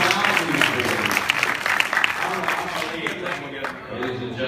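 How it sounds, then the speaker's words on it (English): An audience claps to welcome the moderator, a thick burst of applause with people talking and cheering over it that thins out toward the end. "A big round of applause."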